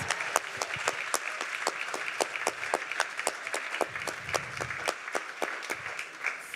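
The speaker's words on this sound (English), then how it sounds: "Let's give a round of applause." Steady applause from a crowd, many hands clapping densely with sharper individual claps standing out over a continuous patter.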